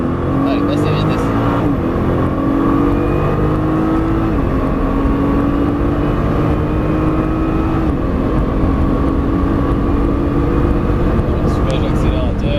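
Nissan GTR accelerating around the Albi race circuit, a steady engine drone rising in pitch with gear changes, recorded close from inside the car while an instructor talks over it.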